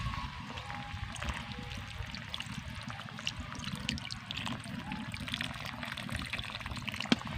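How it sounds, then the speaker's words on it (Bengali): Water poured into a tomato and potato curry makes a faint, steady trickle and splash, low and unbroken throughout. "এবার দিয়ে দেব জল"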